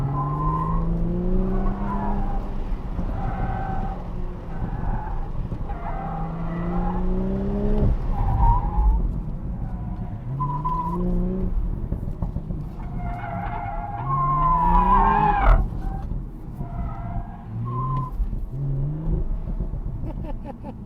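A Toyota GR Supra on an autocross run squeals its hot tires through repeated corners, long wavering screeches rising and falling over the engine's steady drone, loud and close throughout.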